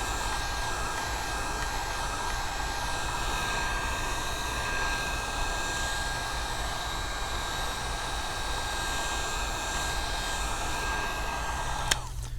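A hair dryer blows steadily at close range, heating the glass of an iPad Pro 9.7 screen for removal, with a constant whirring roar and a high whine, then clicks off abruptly at the end.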